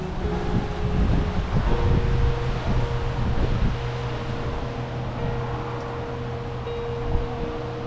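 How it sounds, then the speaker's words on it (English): Strong, steady wind from Hurricane Helene, about 15 miles inland near Clearwater, roaring continuously with rustling leaves and buffeting on the microphone. A low hum runs underneath, and no one speaks. "It's getting pretty windy. It's getting really windy."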